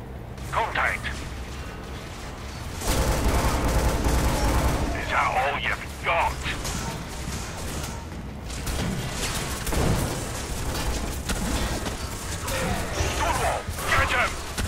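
Shootout in the Scourge Outbreak video game: rapid bursts of gunfire and heavy impacts crackle continuously at close range, dense and loud, while a player talks over the action.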